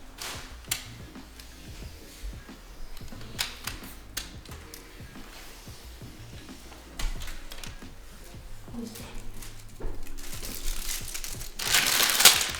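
Plastic protective wrapping crinkles and crushes around the edges of a Hisense U8H TV during unboxing. Irregular close rustles and snaps run throughout and swell into a louder burst of crackling near the end.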